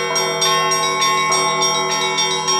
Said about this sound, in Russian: показали слушателям всю глубину и красоту колокольного звона